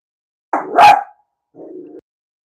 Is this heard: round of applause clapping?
no